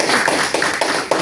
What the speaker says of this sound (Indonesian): kasih aplaus dulu buat Fatimah